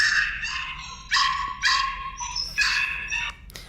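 A young dog lets out a series of high, drawn-out yelping barks, several in a row, fairly close and clear with no talking.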